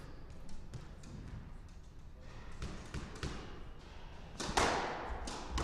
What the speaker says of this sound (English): Lovely stretching forehand volley.